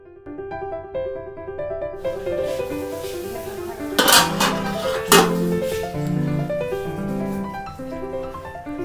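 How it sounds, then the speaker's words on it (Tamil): Marinated mutton for Jaffna-style curry tipped into a pan and stirred, giving a few sharp metallic clanks and scrapes of utensil on cookware, two louder knocks standing out over steady background music. "இப்போ அந்த ஊற வச்ச ரச்சியை சட்டியில் போட்டு வடிவாக கிளறி பிரட்டி விட்டு சரி ஒரு 10 நிமிஷம் ஒரு மூடி ஒன்று போட்டு மூடி வச்சுட்டா சரி"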